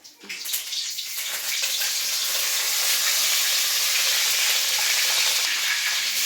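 Fenugreek seeds and curry leaves hit hot oil with a sudden crackle that settles into a loud, steady sizzle. The hissing frying carries on with no voices.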